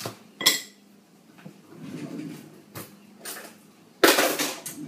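A knife chopping a bar of 85% dark chocolate into small chunks on a board, giving sharp, irregular knocks and crunches at close range with quiet gaps between them.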